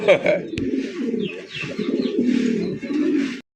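Fancy pigeons on a farm coo in repeated low, throaty, rolling phrases, close and fairly loud, with a faint voice in the background.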